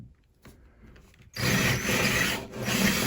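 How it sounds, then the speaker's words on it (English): After a quiet moment, a power drill with a 1/2-inch bit whirs up loudly and grinds steadily through material, with a brief dip midway before boring on. "We're just going to take the 1/2-inch drill bit."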